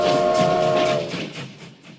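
A steam train arrives at a station, a loud close whistle tone with rushing steam and rail noise that fades and thins out over two seconds, with no talk.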